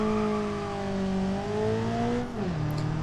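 Car engine in BeamNG Drive at about 130 km/h, a loud steady droning hum with a gently shifting pitch that drops briefly near the end.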